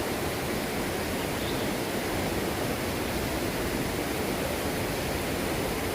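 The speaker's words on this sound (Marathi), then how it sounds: "पाण्याचा होणारा आवाज" Steady rushing water flows continuously beside Shri Loteshwar temple in Konkan, a dense broadband roar like a nearby stream or small waterfall, with no voices.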